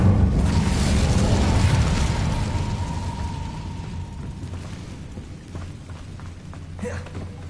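Incendio fire spell cast in Hogwarts Legacy, a loud whooshing burst of flame at the start that rumbles and fades away over several seconds, with no talking.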